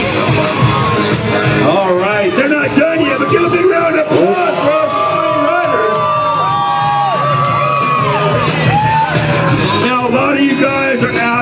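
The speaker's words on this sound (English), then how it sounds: "give a big round of applause for our riders" A crowd cheers, whoops and shouts for the riders at a freestyle motocross show at Southbay Motorsports. The noise is loud and sustained, with many voices yelling over one another throughout.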